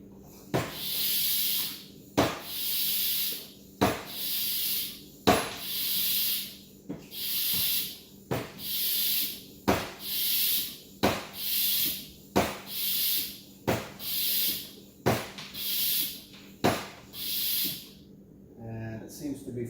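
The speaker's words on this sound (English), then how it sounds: "It says give it 10 pumps to start the suction." A Mighty Vac hand vacuum pump draws oil from a 2018 Yamaha FXHO Waverunner, giving about a dozen evenly spaced hissing pump strokes, each a sharp click followed by a breathy rush, close and fairly quiet.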